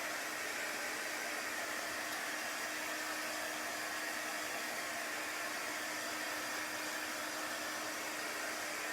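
A blow dryer runs steadily to dry chalk paste on a barn-board-colored surface, giving a continuous, even rushing whir with no breaks or speech.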